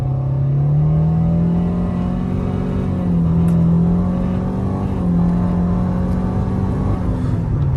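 A 2013 Nissan Altima with a CVT transmission accelerating hard on a 60 mph road, giving a steady, loud engine drone with a rising and falling tone, heard alone without talk.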